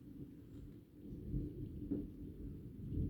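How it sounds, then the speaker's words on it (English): Thunder from a thunderstorm rolls as a low, steady rumble that swells slightly toward the end, distant and fairly soft, with faint rain behind it and no voices. "You see that thunder up there?"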